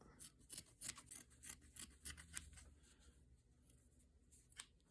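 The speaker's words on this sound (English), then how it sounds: "Let's test the shears." Fabric shears snipping through an old cotton t-shirt, giving a run of close, quiet crisp cuts in an irregular rhythm, then softer rustling of the cloth.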